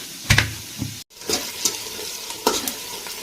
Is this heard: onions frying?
yes